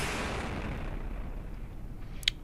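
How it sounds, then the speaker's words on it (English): A high-explosive cannon shell detonates in front of a shield in From The Depths, heard as a loud, sustained boom and rumble that slowly fades, ending in a brief sharp crack near the end. "So you can see there the explosion happened before the shield"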